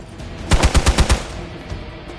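A rapid burst of about six gunshots rings out in quick succession in Marvel's Midnight Suns, sharp and loud, followed by a brief quieter tail.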